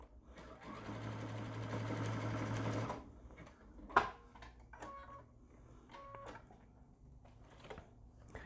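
Sewing machine stitching neoprene, a close, steady mechanical whir for about two seconds, followed by quieter handling knocks and small clicks as the fabric is adjusted.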